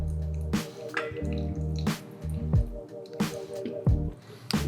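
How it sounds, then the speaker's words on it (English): Water trickles slowly over a coffee bed in a pour-over brewer, heard as soft, irregular close drips and wet squishing sounds repeating every second or so, with no voices. "as I'm pouring, I'm just pouring in a gentle, slow motion and circulating around the coffee bed at a consistent rate"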